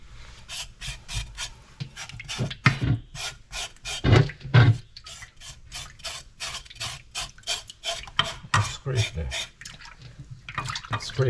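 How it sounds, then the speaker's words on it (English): Pork shoulder skin scraped with a blade in a kitchen, a run of short rasping strokes in a steady, uneven rhythm, close and moderately quiet, with some wet handling between strokes. "Scrape the skin just in case there's any residue on there."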